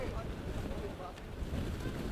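Gusting wind buffets the microphone outdoors at an ultimate frisbee match, rising and falling in a low rumble under the talk of commentators.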